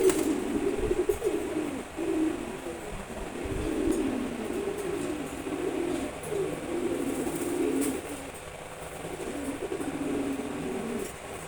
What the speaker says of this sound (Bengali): হাই ফ্লাইং রেসার কবুতর